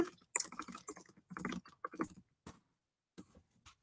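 Someone types on a computer keyboard while posting to a live chat. Quick, irregular key clicks come in bursts and then thin out to sparse taps, close and fairly quiet.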